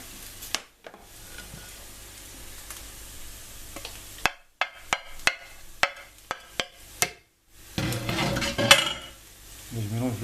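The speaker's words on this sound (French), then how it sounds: "Et je mélange le tout." A spoon knocks and scrapes as potato and coriander are mixed in a bowl, a series of sharp, evenly spaced clinks followed by a busier, rustling stir, close and clear.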